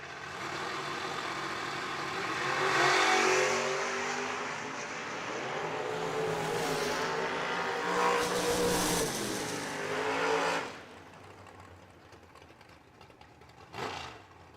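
A Camaro race car at a dirt-track racing event: engine roar swells and fades as the car passes, peaking loudly mid-run, then drops to quieter background rumble before a brief final burst.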